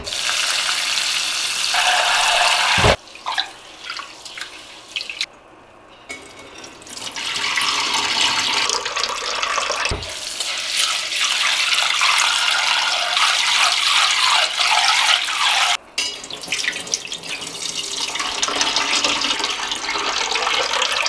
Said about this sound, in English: just rinse the rice tenderly about twice